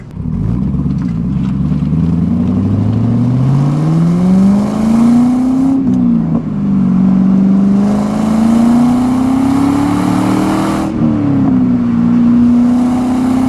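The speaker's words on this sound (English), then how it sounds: "Smooth, easy shifts, that clutch feels good again." A 2001 Pontiac Trans Am WS6 driving, its engine close and loud, revs climbing steadily through a gear, dropping at a shift, then rising again through the next gear with brief dips between.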